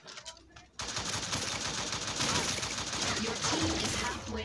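Dense, rapid gunfire bursts from the game T3 Arena, loud and continuous after a brief quieter opening, with occasional voice underneath.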